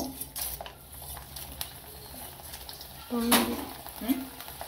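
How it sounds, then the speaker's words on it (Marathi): Corn flakes (maize poha) frying in hot oil for bhadang bhel, a soft sizzle with occasional stirring scrapes and a sharper clatter of a utensil, while a voice speaks in between. "मक्याचे पोहे तळून घेऊ।"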